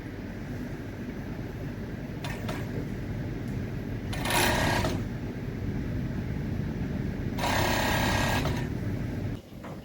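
A sewing machine runs steadily through a seam on two-piece nightwear made for bulk sale, a continuous close mechanical whir with two brief louder bursts of faster stitching and no talk.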